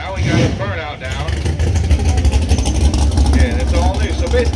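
An 850 hp Super Pro Vega drag car does a burnout at a drag strip, a steady low engine roar and tire noise under someone talking over it.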